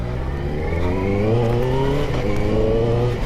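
A 2022 Qjmotor 600RR motorcycle engine revving smoothly and steadily, loud and close, its pitch climbing gradually over a few seconds.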